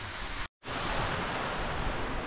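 Waterfall at a bathing spot, a steady broadband roar of falling water that stays loud and constant, cut by one brief moment of silence near the start.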